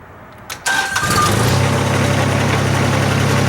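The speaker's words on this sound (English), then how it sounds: "So go ahead, fire the tractor up." An LS MT125 compact tractor cranks briefly and catches, then settles into a steady, loud diesel idle close by with no talk over it.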